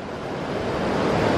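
Rushing water from a waterfall at Dass Nala near Tezu, Arunachal, a dense, continuous roar that stays loud and steady throughout with no voices.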